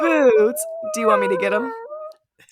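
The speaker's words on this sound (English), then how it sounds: "Sorry, the dog is whining." An indoor dog whines and howls in long, wavering, rising and falling cries, close and clear, while a person talks over the sounds.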